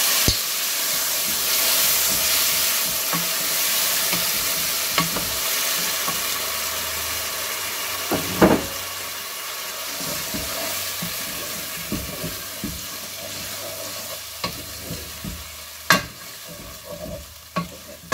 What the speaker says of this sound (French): je vais mettre donc c'est ma purée de tomates maison du coup